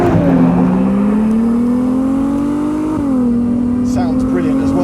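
A 2023 Ferrari 296 GTB's engine accelerates hard, a loud, close, rising drone that climbs steadily, drops briefly at a shift, then pulls again.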